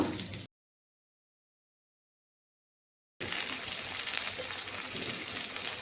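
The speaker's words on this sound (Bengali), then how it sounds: "এবার আমি আলুটা ভাজা করে নেব।" Potatoes sizzling and crackling in hot oil, a bright steady hiss that cuts out briefly and then resumes close by.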